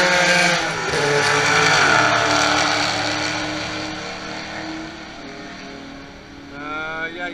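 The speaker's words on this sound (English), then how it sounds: "he's gonna chase that Porsche down now." A race car chasing an older Porsche 911 at Watkins Glen, New York, engines roaring loudly nearby and then fading as they pass down the track, with a rising engine note near the end and a voice talking over it.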